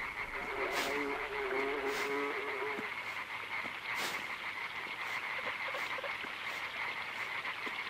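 A toad croaks repeatedly in the side-scrolling puzzle game Limbo, low throaty calls layered over a steady droning ambience, with a few sharp clicks and thumps scattered through.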